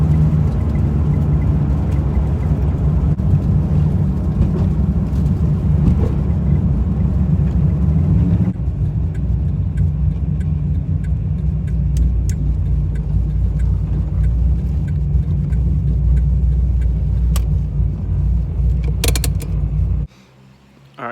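A car with a 383 stroker engine on the street drones loudly and close, a deep steady roar that shifts tone partway through, then cuts off abruptly near the end with brief creaks.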